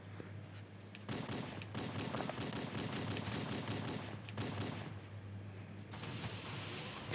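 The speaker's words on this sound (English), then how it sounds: "Luckily, I have my dual pistols." Dual pistols firing in the video game Cursed Halo, rapid bursts of sharp shots in quick succession, loud and close, with brief pauses between volleys.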